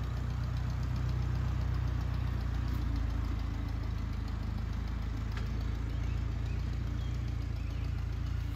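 A farm tractor engine idles steadily nearby with a low, knocking diesel-like rumble, continuous and moderately loud throughout, no voices.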